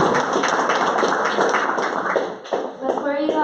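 Audience applause at an art opening reception, a dense steady round of clapping from a crowd indoors that fades near the end as a voice begins speaking.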